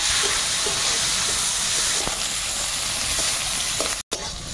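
Chopped onion hits hot oil in a wok already seasoned with whole garam masala, bay leaf and cumin for a crab curry, giving a loud, steady sizzle and hiss that cuts out briefly near the end, then resumes.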